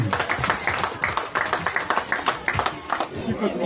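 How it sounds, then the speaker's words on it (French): An audience claps for a man being thanked at a gathering, with sharp, fairly close individual claps in an uneven rhythm and voices speaking over them. "On applaudit encore notre ami Maxime."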